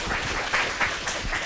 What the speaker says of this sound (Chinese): 那拍手一下吧。